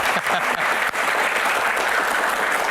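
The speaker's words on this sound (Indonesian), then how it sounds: "Tepuk tangan dong semangatnya." Audience applause at an Indonesian political Q&A event, a dense, steady clapping from a standing crowd that stays loud and continuous throughout with no talk over it.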